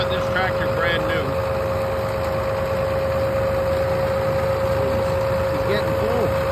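John Deere 7810 tractor with over 10,000 hours, engine idling nearby, a steady low rumble with a constant whine, continuous and even throughout.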